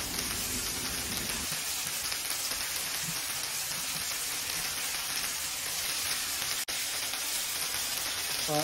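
Fried tuna added to softened tomatoes in a hot pan sets off a steady, close, loud sizzle that hisses on evenly throughout, with one sharp tap partway through.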